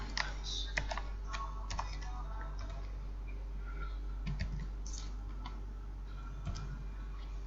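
Code being typed on a computer keyboard in the Dev-C++ editor, a steady stream of light key clicks over a constant low electrical hum, close and moderately quiet.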